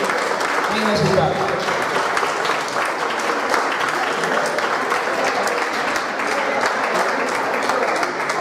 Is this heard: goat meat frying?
no